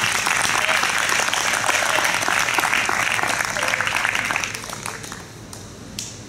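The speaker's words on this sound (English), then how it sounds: "if you could join me with a round of applause for every single volunteer" A room of people applauds for the volunteers of a student iftar tent at SOAS University. The clapping is full and steady for about four seconds, then thins out and fades to a few scattered claps.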